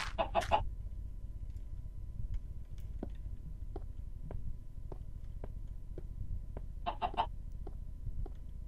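A chicken in the video game Minecraft clucks in short bursts near the start and again later, between soft, regular ticking clicks over a low steady background hum.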